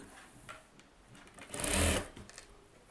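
Sewing machine stitching a blouse in one short, close burst of rapid whirring that swells and fades out, surrounded by quiet room noise.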